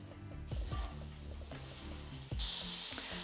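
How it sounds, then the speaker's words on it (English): Onions sauté in fat in a pan for Dublin coddle, a steady close sizzle and fry with a few clattering stirs and scrapes of a utensil, no talking. "So I'm gonna start sauteing my onions."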